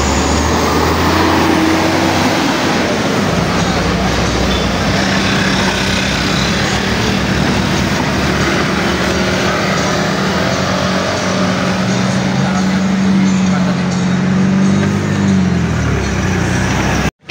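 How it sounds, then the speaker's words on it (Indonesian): ALS inter-Sumatra executive bus on the road at the Ombilin bridge: a loud, sustained rumbling engine and road roar that swells and shifts in pitch as the vehicle passes close by, with no voices. "terpantau bus ALS antar lintas Sumatera"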